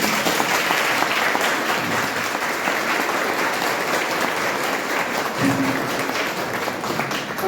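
A room full of people claps steadily for Cristina's birthday, a thick, continuous roar of applause lasting several seconds, with a brief voice rising near the end.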